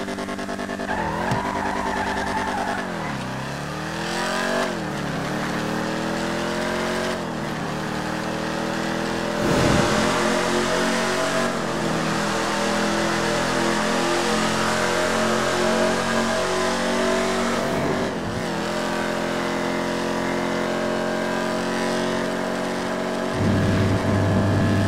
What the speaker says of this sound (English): The Pontiac Dukes, absolutely loud, gives you that roar.